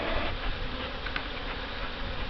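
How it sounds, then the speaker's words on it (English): Honey bees buzzing over the tops of hive frames during a mid-July colony inspection, a steady dense hum close by with no talk. "I need to get the bees off the top first"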